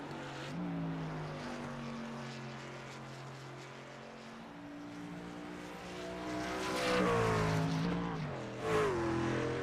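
Racing truck engine droning steadily around the New Hampshire track in a racing video game, a lone vehicle with pitch rising and falling through gear changes and braking zones, loud and continuous with no talk.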